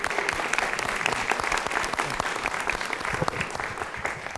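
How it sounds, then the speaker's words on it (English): An audience at a Palm Beach County legislative delegation meeting breaks into dense, lively applause, many hands clapping close together for a few seconds without pause. "I noticed she got more applause than I did"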